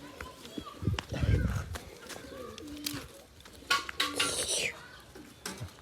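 Pigeons coo and rustle nearby, mixed with clinking of dishes and pots and murmured voices, the sounds coming in scattered bursts over a few seconds.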